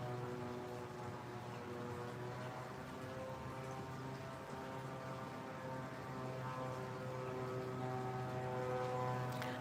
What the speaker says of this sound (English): I hear a plane. You guys hear it?